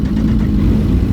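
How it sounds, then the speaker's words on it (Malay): Motorcycle engine running steadily up close and loud, a continuous low droning rumble with a slight rev, on a highway ride near Mempaga toward Kuala Lumpur. "Kita start motor."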